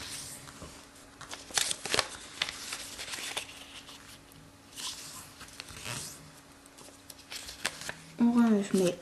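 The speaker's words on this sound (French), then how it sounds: "Donc, côté imprimé, on plie les diagonales." Origami paper being folded along its diagonals on the printed side while making a paper star, giving soft crinkles, creases and sliding rustles in scattered bursts, close up and fairly quiet.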